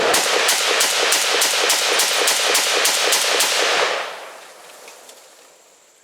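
A rapid string of about a dozen sharp shots from a Kel-Tec RFB .308 rifle, loud and evenly spaced, followed by a fading echo and near-silence.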